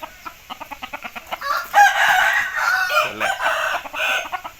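A young rooster being bathed and set out in the sun crows once, loud and close, amid rapid rhythmic clucking and scuffling from nearby fowl.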